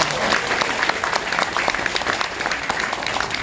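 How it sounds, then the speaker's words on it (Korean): Crowd at a political party founding ceremony applauds steadily and densely, a sustained wash of clapping from many hands throughout. "박수 부탁드리겠습니다."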